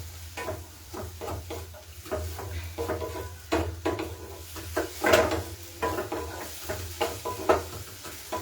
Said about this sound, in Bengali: পেঁয়াজটাকেও আমি ততক্ষণ ভেজে নেব যতক্ষণ না এটা একটু ব্রাউন কালার আসছে।